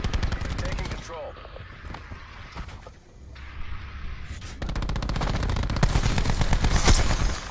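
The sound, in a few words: machine gun hip fire in video game Black Ops 4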